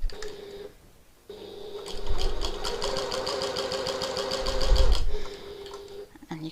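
A sewing machine runs a straight stitch along the edge of a piped pocket tote bag, a fast, steady mechanical whir and clatter that starts after a brief pause and stops near the end, with light background hum.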